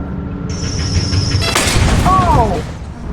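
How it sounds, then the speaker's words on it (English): A car crashes in the video game Lethal Company: a steady tone gives way to a sudden loud crunching impact burst, with noisy debris trailing off and voices nearby. "You crashed the car!"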